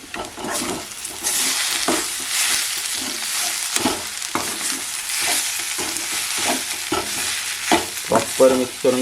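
Chopped banana stem is stirred with spices in a hot pan: a steady, close sizzle runs throughout, broken by repeated spatula scrapes that grow busier and clatter more toward the end.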